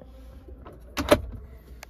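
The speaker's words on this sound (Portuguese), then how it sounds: "porta-luvas descida suave e iluminação em LED" A glove box with a soft-descent lid and LED lighting swings open in a Fiat Titano Volcano 4x4 2025 pickup, giving one brief mechanical clunk and whir, close and fairly loud, against a quiet cabin.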